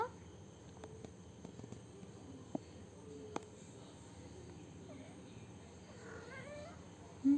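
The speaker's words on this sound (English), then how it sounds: "Meow." A two-week-old kitten gives soft, faint meows in a quiet indoor room, with a few small clicks and taps and a slightly clearer cry near the end.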